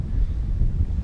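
Wind buffets a microphone outdoors in wintry Arctic Norway near Tromso, a low rumbling gusty roar that stays steady and close for a moment.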